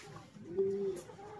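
A pigeon gives a single low, soft coo among a small flock, close by against a quiet background.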